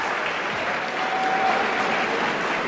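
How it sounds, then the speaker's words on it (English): A large crowd of students at a school event gives steady, continuous applause, a dense unbroken wash of clapping at full volume. "Can you do the clapping?"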